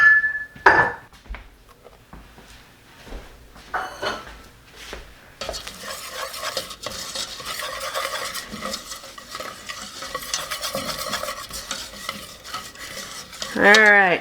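Flour is stirred into melted butter in a pan on the stove, starting with a few taps and clinks, then settling into a steady scraping and soft sizzling up close.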